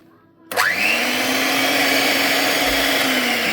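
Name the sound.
blender blending condensed milk mixture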